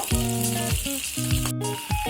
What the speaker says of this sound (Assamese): মাংসটো লাহে লাহে ফ্ৰাই হৈ যাব